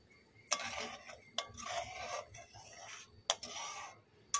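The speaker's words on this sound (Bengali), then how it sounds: "চিনিটা গোলা পর্যন্ত আমি এরকম নাড়ব।" Spoon stirring milk with sugar in a pan while making bread malai rolls, a soft repeated scraping rasp in several strokes, close and fairly quiet, with no talking.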